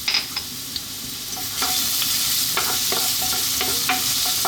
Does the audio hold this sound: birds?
no